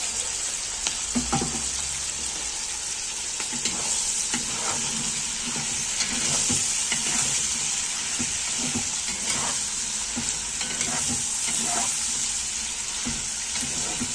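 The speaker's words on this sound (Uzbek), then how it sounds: "piyozimizni bilan uzoq qovuramiz birgalikda." Onions fry steadily in a pan for non kabob, a continuous bright sizzle broken by repeated scrapes and clinks as they are stirred, close and fairly loud with no voices.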